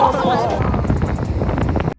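Wind on a beach buffets the microphone in rough, continuous gusts, loud and close, while people talk over it before it cuts off abruptly.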